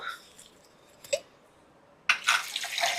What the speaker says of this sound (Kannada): ಮಿಕ್ಸಿ ಇದಕ್ಕೆ ಒಂಚೂರು ನೀರು ಹಾಕ್ಬಿಟ್ಟು